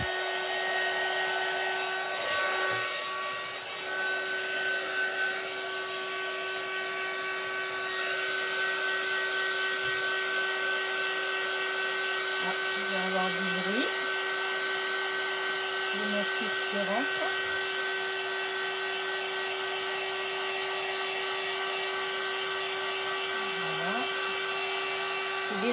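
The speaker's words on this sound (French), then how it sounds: "là ça va faire un petit peu de bruit, mon pistolet thermique" A heat gun blows hot air onto a round craft card, a loud steady whine and rushing hiss that runs unbroken for the whole stretch, with some small knocks and a voice now and then under it.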